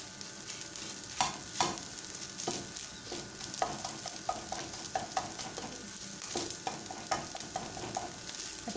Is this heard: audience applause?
no